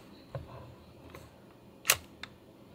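A Canon EOS Rebel XS N film camera fires and advances its film: a faint click, then one sharp mechanical shutter-and-winder snap and a smaller trailing click, close and quiet.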